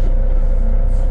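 A car starting to drive off, with a loud, steady low engine rumble heard close up and no voices.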